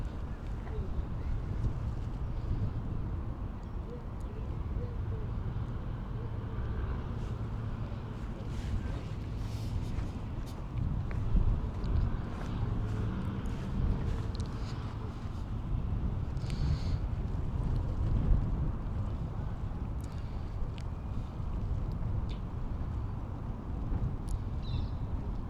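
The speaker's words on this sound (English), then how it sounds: "The wind has picked up a little bit." Wind buffeting a drone in flight over New Cross, London, a constant low roaring rumble of gusts that holds steady throughout with no pauses.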